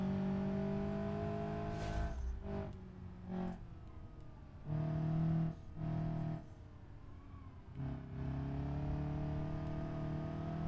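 An Ibishu 200BX car in the BeamNG driving game on the Hirochi short track, its engine droning steadily with repeated revving bursts and drops as it accelerates and brakes through corners, moderately loud and alone.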